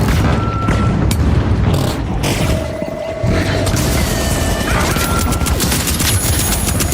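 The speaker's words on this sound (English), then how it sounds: "Frag grenade sent." Loud, dense game combat in The Finals with a frag grenade going off amid booming blasts, crashing debris and gunfire layered into a continuous roar, plus brief tonal interface beeps.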